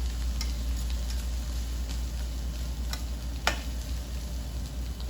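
Tender okra pods fry over high heat in a pan being shaken, giving a steady broadband sizzle with a low rumble beneath and a few sharp ticks and pops, one louder crackle standing out midway.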